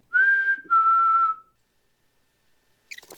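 Two clear whistled notes, the first rising slightly and the second held steady, followed by silence and a faint rustle.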